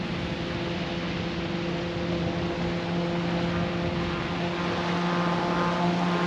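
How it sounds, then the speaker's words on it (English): Jet skis on open water make a steady, loud engine drone mixed with broad wash and rushing noise, continuous throughout with no break and no voices. "There's the jet skis."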